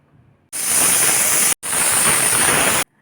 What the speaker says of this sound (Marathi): दोन शिट्ट्या होऊ देते